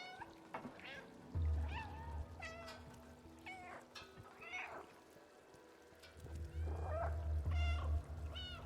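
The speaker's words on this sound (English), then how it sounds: "I am meowing." A cartoonish cat meows repeatedly in short, rising cries over a low steady hum and light game sounds in the video game Stray.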